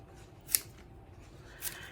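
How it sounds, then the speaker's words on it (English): Kitchen shears trimming the leaves of a pineapple top: two crisp, close snips about a second apart over a quiet background, with no voices. "Now I get my kitchen shears, and you're just going to trim."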